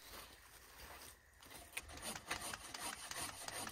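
A pole saw extended up to 6.5 meters cuts dead high branches, its blade rasping through wood in quick, repeated strokes that grow louder after a brief pause, heard alone outdoors.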